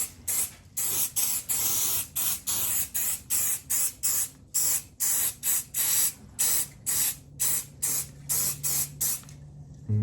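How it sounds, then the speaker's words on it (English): Glue accelerator sprayed around acoustic guitar binding in short rhythmic bursts, about two dozen quick hissing puffs in a steady series, close and fairly quiet with no speech. "I'm going to take my accelerator and I'm just going to spray it all around here"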